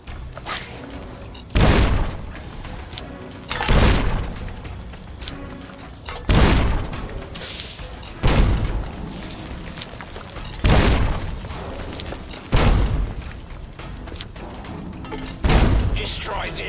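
Frag mines exploding in Fallout: New Vegas, Old World Blues, a series of about seven heavy booming blasts spaced a couple of seconds apart, each thudding loudly over a quieter background of game sounds.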